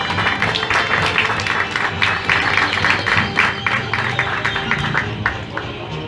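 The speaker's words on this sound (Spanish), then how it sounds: "Démosle un fuerte aplauso a la maestra Betty." An audience at a municipal art exhibition in Tejupilco applauds a teacher and artist with steady, fairly close clapping that holds for about six seconds with scattered individual claps standing out.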